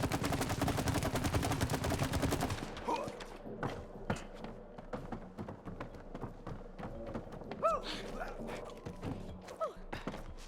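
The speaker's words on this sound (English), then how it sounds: "you're pretty good with that match gun" A match gun firing in the co-op game It Takes Two, heard as a string of sharp irregular pops and thuds at moderate volume after a dense loud passage, mixed with other game effects.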